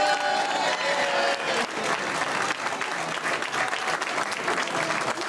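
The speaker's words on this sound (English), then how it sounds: "Give them a round of applause." Audience applause after volunteers are thanked at a political event, a dense steady wash of clapping that carries loudly through the whole stretch, with a brief dip partway before it swells again.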